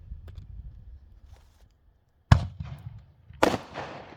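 A small 1-inch consumer firework shell goes off outdoors: a sharp loud bang after a quiet pause, then a second crackling burst a moment later that trails off, with low rumbling before.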